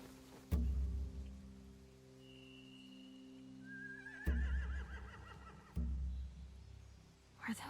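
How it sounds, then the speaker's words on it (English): Horses neigh in The Walking Dead game, thin whinnies rising faintly amid quiet ambience, punctuated by three sudden loud low thumps spread across the scene. "Scare the horses too."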